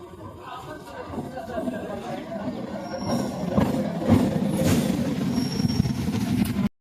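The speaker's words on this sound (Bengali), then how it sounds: "ট্রেনটা আসছে" A train pulls into a crowded station, its rumble and wheel noise building louder toward the end beneath the chatter of waiting passengers.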